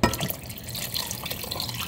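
Water poured from a container into a cooking pot of peas and broth, a steady close splashing pour that runs throughout without pause.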